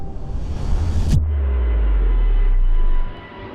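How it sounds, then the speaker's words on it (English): A jet airliner takes off near Heathrow Airport with a loud, continuous low roar that holds steady for a few seconds and then drops away. "The plane seems to be taking off like every 60 seconds"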